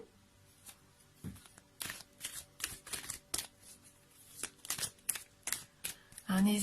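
Oracle cards riffled and shuffled in a string of quick papery bursts, then drawn, close and fairly soft, with someone speaking French at the end.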